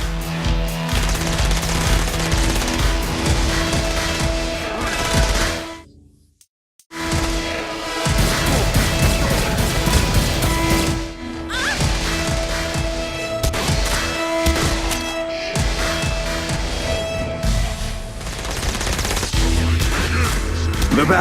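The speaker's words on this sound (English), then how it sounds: "The battle raged on below, and as bullets and blood flew" Dense video game battle gunfire in Saints Row: Gat out of Hell, rapid automatic bursts and loud cracks over a roaring mix, broken by a brief silent gap before the barrage resumes.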